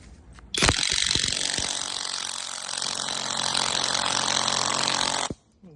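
An Intertool WT-9368 impact wrench on a 36 mm nut hammers with a loud, continuous rattling buzz for about five seconds, close up, starting and stopping abruptly.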